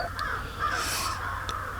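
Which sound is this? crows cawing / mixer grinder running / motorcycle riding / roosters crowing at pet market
crows cawing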